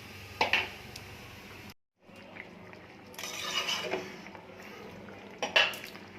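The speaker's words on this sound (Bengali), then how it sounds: "এবার ঢাকা দিয়ে দিচ্ছি।" A lid going onto a pot of Indian curry, with clattering metal knocks and scraping at close range, a brief silent gap, then more cookware clinks over a soft hiss.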